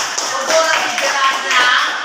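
Indonesian classroom students clapping for a group after a presentation, brisk close-up applause from a small room with voices mingled in.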